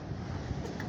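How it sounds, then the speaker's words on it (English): Strong wind blows steadily outdoors in Fresno, California, a dense close-up microphone rumble with no pauses and no voices. "I was just wanted to show you guys a little bit of how windy it was."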